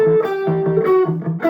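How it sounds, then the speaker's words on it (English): Distorted electric guitar plays a repeating riff, a sustained singing upper note over muted, chugging low notes, loud and close. "if you play it with distortion"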